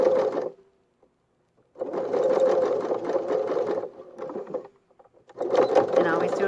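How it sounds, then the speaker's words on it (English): A sewing machine back stitches the casing of a cloth face mask, running in three bursts separated by short pauses, close and fairly loud. "just do a back stitch."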